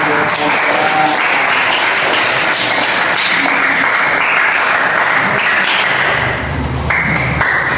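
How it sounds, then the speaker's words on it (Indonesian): Sixth-grade classroom applause in an Islamic studies lesson, loud continuous clapping from many children filling the room, close and sustained for several seconds with a few taps and thuds mixed in. "Ya, tepuk tangan."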